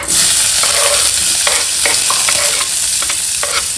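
Cumin and finely chopped onion fry in hot oil in a pan with a loud, steady sizzle, close up, broken by the scrape of a spoon stirring.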